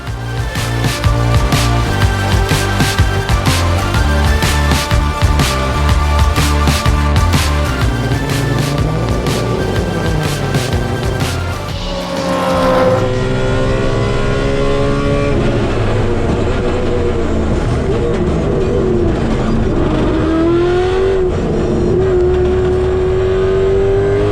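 A race car with budget aero changes and Hankook tires lapping Highlands Motorsport Park, its engine loud and close, revving hard and rising and falling through gear changes and corners for the whole stretch.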